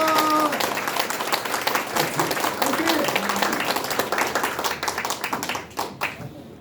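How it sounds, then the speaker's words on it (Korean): Audience applause at a Korean politician's press conference announcing a district mayoral by-election run, a loud dense burst of clapping from a crowd that carries on steadily before thinning out near the end, with brief talk at the start. "큰 박수 부탁드리겠습니다"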